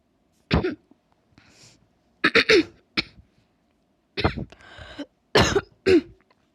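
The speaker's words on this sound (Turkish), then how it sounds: "arada sırada öksürüyorum da" Repeated close coughs in short clusters, sharp and throaty, with brief pauses and faint wheezy breaths between them.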